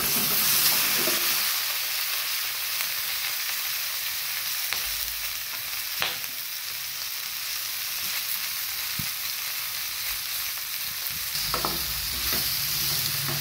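Okra pieces frying in two spoons of ghee with turmeric, a steady broadband sizzle that fills the whole stretch, with a few faint stirs and scrapes along the way and no voices.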